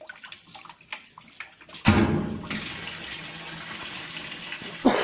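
Water gushing into a Whirlpool washing machine drum, a sudden loud rush that starts abruptly and then runs steadily, close by with no talking.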